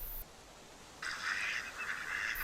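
Ducks calling in a snowy mid-February winter scene, a brief burst of honking, quacking calls from a small group, moderately near over quiet background.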